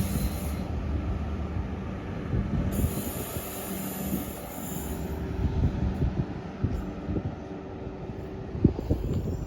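A train led and tailed by Class 43 power cars 43003 and 43176 rumbles past up close, with steady wheel noise, clattering rail joints and squealing wheels throughout.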